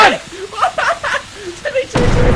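A grenade blast in the game Content Warning: after scattered voices, a sudden loud, broad burst hits near the end and keeps roaring to the close.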